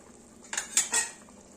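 A few quick metallic scrapes of a spoon against a pot of chicken mixture, three short clinks in a row, then quiet.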